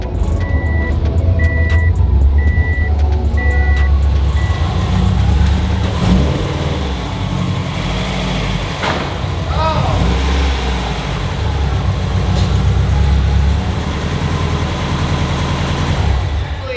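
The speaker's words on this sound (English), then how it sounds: "That exhaust rattle's gonna drive me nuts though." A Subaru WRX STI with an exhaust rattle runs loud and steady at close range for the whole stretch, with a few short electronic beeps near the start.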